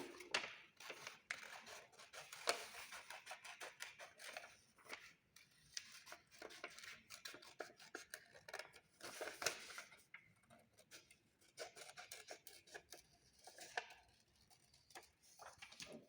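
Scissors snip through paper while cutting out a heart shape for a folded greeting card, a rapid run of small crisp clicks and rustles, close and fairly quiet, with short pauses between bursts.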